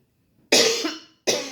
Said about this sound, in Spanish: perdón, ando con un poco de tos